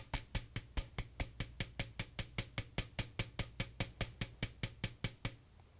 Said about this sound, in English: And then I'm moving out and hammering up the tail.